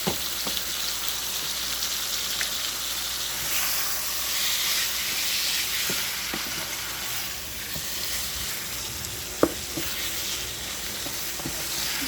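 Ground beef browning in a pan for a casserole, with a steady close sizzle and hiss throughout and a few small pops and crackles, one sharper pop near the end.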